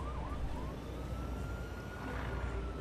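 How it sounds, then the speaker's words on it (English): A wailing siren in the video game SimCity (2013) rises and falls steadily over a dense, rumbling background of traffic-like noise, continuous throughout with no voices. "Freaking sirens and train sounds blaring in the left speaker"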